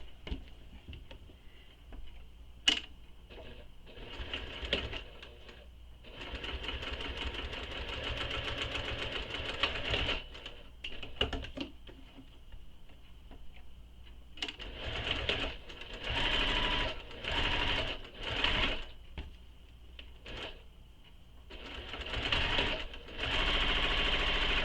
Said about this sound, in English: we're going to sew the long edges of each connector